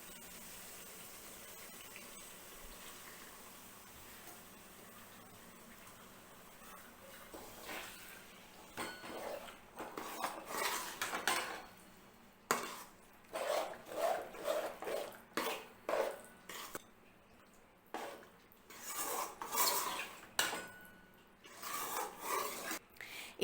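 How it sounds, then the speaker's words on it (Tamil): Ground rice batter is stirred into sautéed onions in a pan, heard as quiet then increasingly busy rhythmic scraping and rasping strokes of a spoon against the pan, in irregular bursts with no talking. "இப்போ நம்ம அரைச்சி வச்ச மாவை இதில் சேர்த்துடலாம்"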